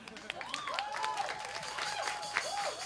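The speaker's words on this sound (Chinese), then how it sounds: "谢谢，给他一个掌声好不好？" Audience at a live band concert applauding, a steady patter of clapping from a crowd, fairly soft and distant, with faint talk and a few whistles mixed in.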